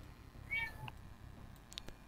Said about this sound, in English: Oh, I hear that cat.